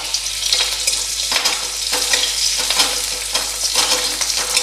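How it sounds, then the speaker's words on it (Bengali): Chopped garlic cloves and green chillies sizzle in a little hot oil over a low gas flame, a steady close frying crackle with occasional stirring bursts and no talking. "7-8 কোয়া রসুন, কুচিয়ে ফোড়ন দিচ্ছি আর 4টে লঙ্কা।"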